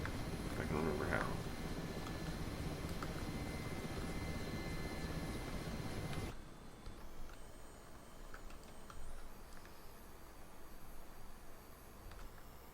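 A helicopter in a flight simulation game drones steadily with a soft, continuous engine and rotor hum that abruptly changes to a quieter, thinner tone partway through.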